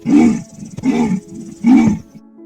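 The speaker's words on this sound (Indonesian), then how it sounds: "Suara auman dari macan tutul lumayan keras, tapi agak berbeda dengan singa dan harimau." A leopard roars loudly in three heavy, rasping bursts spaced about a second apart, each with a deep growling body, with no talking present.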